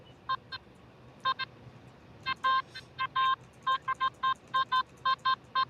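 Metal detector beeping at buried foil trash, short repeated electronic tones in irregular bursts that grow steadier, over faint outdoor background hiss, no talk.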